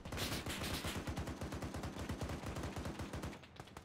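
Rapid automatic gunfire in a video game, aimed at a Hind helicopter, rattling loud and continuous in dense bursts for several seconds before cutting off near the end.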